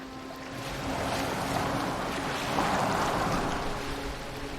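A boat sails across open water in Assassin's Creed Valhalla, with a steady wash of waves and wind rushing past the hull, continuous and fairly loud, no talking.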